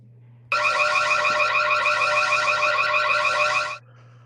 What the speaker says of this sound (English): Crime alarm.